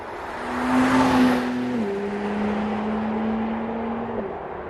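A 2025 BMW X3 M50 with the B58 engine and electric motor boost accelerates hard, its engine note climbing smoothly, dipping briefly at a gear change, then pulling steadily again amid road and wind noise.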